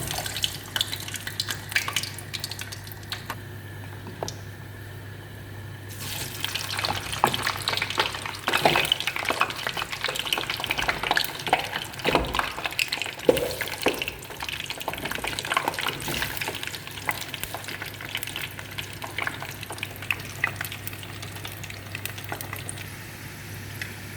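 Cheese snacks fry in hot oil, giving a soft background crackle that thickens into a busy, steady bubbling sizzle after a few seconds and continues without speech.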